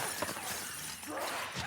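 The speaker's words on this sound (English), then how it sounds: "They shot the glass." Glass shot and shattering in The Last of Us: Left Behind remake, a dense bright crash of breaking shards spread across nearly two seconds at moderate, steady loudness with no talk.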